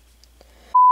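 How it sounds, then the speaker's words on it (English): A phone gives a single short, clear electronic beep after near silence. "There goes my phone."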